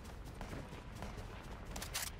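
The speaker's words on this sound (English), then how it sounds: "Gunshots to the east." Faint, distant gunfire in Fortnite Battle Royale crackles as a rapid scatter of soft pops over a low background hiss, heard with no talking.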